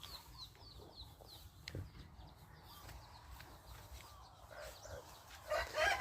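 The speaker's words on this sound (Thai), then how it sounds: "เลี้ยงไก่ในที่นาเนี่ย มันจะมีประโยชน์เยอะเลยนะ" Chickens kept in a rice field near a farmhouse give faint, scattered clucks in the morning, with a brief, louder call near the end, distant against soft outdoor ambience.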